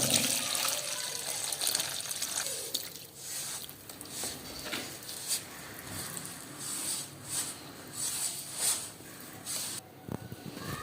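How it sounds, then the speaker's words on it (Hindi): Water poured in an uneven stream onto flour for paratha dough, splashing and trickling into a bowl for several seconds, with soft handling noises between pours. "तो इसके बाद हम इसमें पानी डाल देंगे।"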